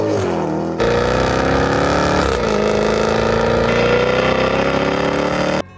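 Supercharged 5.0-liter V8 of a British racing green Jaguar F-Type SVR, a loud steady engine roar with a rising rev that holds high before cutting off abruptly near the end.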